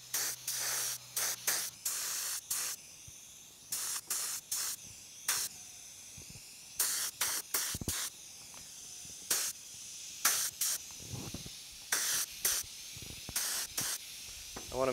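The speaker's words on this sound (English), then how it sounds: "The good thing about using the spray can like this" Repeated short bursts of aerosol spray paint hissing from a can onto plastic parts of a 1965 Chevrolet Malibu SS, roughly a dozen sprays in quick succession with brief pauses, close and fairly loud.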